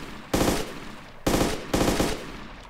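Machine-gun fire in the DayZ video game, with three loud, rapid bursts of automatic shots separated by short pauses and a faint room-like tail after each, and no talk.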